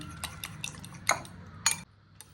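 Beaten eggs being stirred together with chopped onions, green chillies and coriander for a bread omelette, with a few soft scraping clinks of a utensil against a bowl, close and fairly quiet, no talking.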